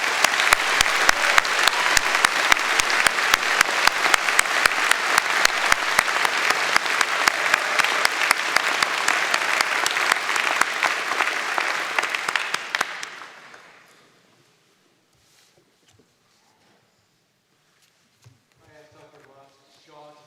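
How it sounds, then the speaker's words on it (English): An audience at a spring university convocation ceremony gives student award winners a dense, loud round of clapping that lasts about thirteen seconds and then dies away. Faint voices follow in the quiet hall. "A round of applause for our student award winners!"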